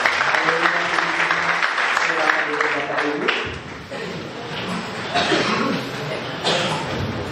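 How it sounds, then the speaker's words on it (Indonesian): Applause from the congregation at a Christmas celebration held inside a prison in Pekanbaru. A broad, steady wash of clapping is heard alongside voices and some tonal sound at the start, then continues loud and dense to the end. "Berikan tepuk tangan buat Tuhan"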